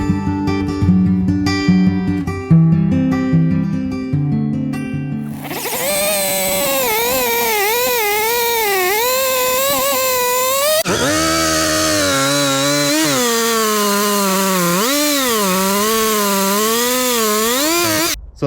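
A chainsaw cuts the sides off a cherry log, its engine running loud and steady with a wavering, rising and falling pitch for most of the stretch, after a few seconds of music at the start.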